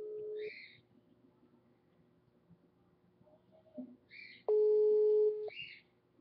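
A phone call going unanswered, with repeated electronic ringback tones sounding in short bursts separated by quiet gaps, clear and close, and one longer steady tone near the end.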